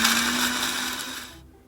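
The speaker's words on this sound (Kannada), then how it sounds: "ಮಿಕ್ಸಿಲಿ ರುಬ್ಕೋಬೇಕು." A mixer grinder whirs at full speed, blending cinnamon, clove and cardamom with a little water into a paste, a loud steady motor roar that cuts off abruptly near the end.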